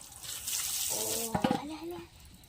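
Water runs from a tap to fill Holi water balloons, a steady rushing splash close by, with a brief voice sounding partway through.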